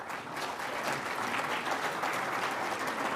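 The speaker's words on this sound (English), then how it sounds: "Give them a big round of applause." Audience applause at an NFT art event in Marvel Stadium, a steady dense wash of clapping from a sizable crowd sustained throughout, moderately distant and fairly even in loudness.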